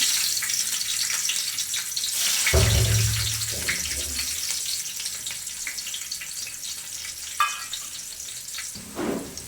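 Cumin and mustard seeds sizzle and crackle in hot oil, with a broad frying hiss and a burst of louder spattering as they hit the pan, near and steady, with no talking.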